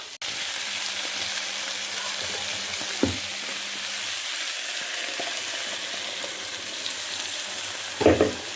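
Ground paste sizzling and frying in a pan of chicken and ridge gourd curry, a steady close hiss throughout with brief stirring knocks near the start and end.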